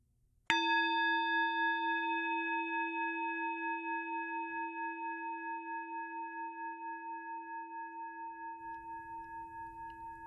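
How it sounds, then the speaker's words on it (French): A gong struck once to open a meditation session rings out with a bright metallic onset, then a long shimmering tone that slowly fades with a gentle, wavering beat, heard alone in a quiet room. "débutons maintenant avec le son du gong"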